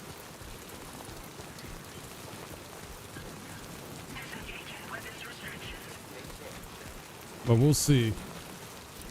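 Timefall rain in the video game Death Stranding 2 hisses steadily as a broad, constant downpour, with someone talking briefly and loudly over it near the end.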